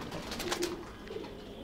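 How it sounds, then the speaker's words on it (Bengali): A racer pigeon gives a soft, brief coo close by, with no voices over it. "এই কবুতরটা একটু দেখাই।"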